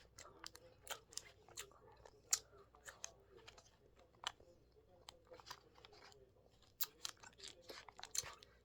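Close, crisp crunching and chewing of a piece of Feastables MrBeast milk chocolate, with irregular bites and mastication sounds coming in quiet bursts and no talking.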